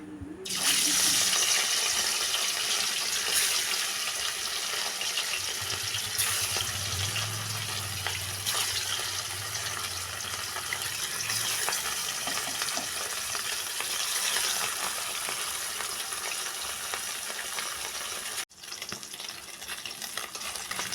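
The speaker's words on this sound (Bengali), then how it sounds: "তেল ভালো গরম হলে একে একে মাছগুলো দিয়ে দেব।" Katla fish pieces frying in hot oil in a wok, a steady broadband sizzle running throughout with some low bubbling and occasional stirring or handling noises, close and fairly loud, with a brief break near the end.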